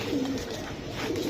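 Giribaz pigeons cooing at a bird market, low soft coos repeating over a murmuring background, close by.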